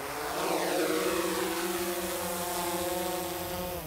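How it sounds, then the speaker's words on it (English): DJI Mavic 2 drone on original DJI propellers hovering close to the microphone at neck height, a loud, steady whining propeller buzz with a faint rising and falling pitch. "First, the sound test with the original DJI propellers."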